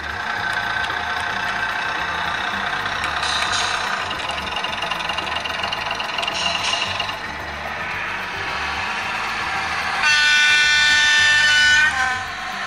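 A Bachmann Class 121 two-car DMU model with factory-fitted sound rumbles and idles with mechanical diesel chugging, rising in pitch near the end as a higher whine kicks in.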